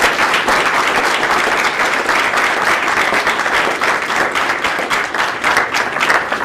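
An audience applauds the speakers at a presentation, with steady, dense clapping filling the whole stretch at close range and no talking over it.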